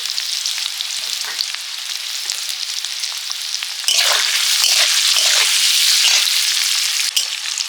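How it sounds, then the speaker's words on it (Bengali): Potatoes frying in hot oil give a dense, loud, continuous sizzle close by, growing stronger about halfway through, with occasional stirring scrapes and no talking. "আলুগুলো ভাজা হয়ে গেছে"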